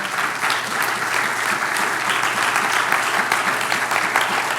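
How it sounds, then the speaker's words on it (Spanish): A congregation claps together in sustained, even applause, a dense wash of many hands that stays loud throughout. "den un aplauso al Señor"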